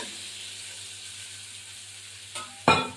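Wet spice paste of ground cumin and coriander hits hot oil in a frying pan, giving a steady low sizzle and then two sudden louder hissing bursts near the end, with no talking.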